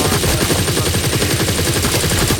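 Assault rifle in the video game Firefall fires in a sustained, loud automatic stream of rapid evenly spaced shots, close and alone without talk.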